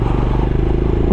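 A Royal Enfield Scram 411 motorcycle being ridden, with a loud, steady, close engine drone that pulses evenly throughout, no talk.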